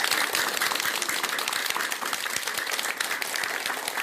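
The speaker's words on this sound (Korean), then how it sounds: "큰 박수 한번 올리시기 바랍니다." A temple congregation at a Buddhist dharma talk claps in a sustained round, dense and crisp with individual hand claps popping through, holding level throughout before easing slightly at the end.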